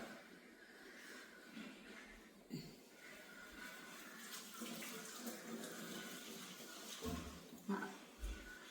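Tap water runs into a vessel in a home kitchen, a faint, steady splashing flow with a few soft knocks, heard from some distance.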